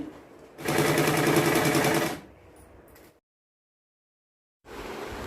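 A sewing machine stitching the waist of a saree-border blouse, joining main cloth and lining: a loud, fast, even whirring run of about a second and a half, then quieter handling, a pause, and a second run starting.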